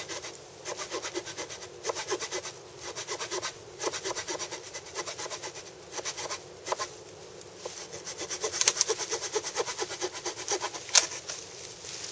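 A hand saw cuts through wood being harvested for a bow drill, in steady back-and-forth strokes, close and rhythmic, continuing without pause and with no talking.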